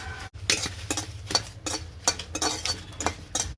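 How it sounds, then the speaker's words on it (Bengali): Dried red chilies being fried in a pan, with a soft sizzle beneath repeated sharp scraping and clinking strokes of a utensil against the pan at an irregular stirring rhythm, close by. "এখন আমি শুকনো মরিচটা বেজে নিচ্ছি"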